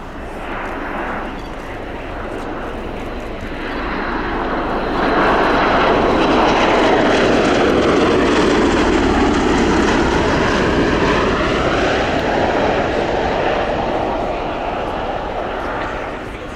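A USAF Bell Boeing CV-22B Osprey tiltrotor flies a sunset display at an airshow, its loud, broad rotor and engine roar swelling as it passes overhead and then easing slightly as it moves away.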